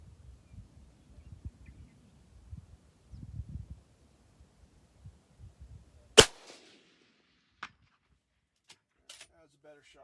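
A single sharp, loud report from a .308 Sig Cross rifle cracks out at an outdoor shooting range, followed by a brief echo and a few faint ticks amid quiet handling noises and low murmurs.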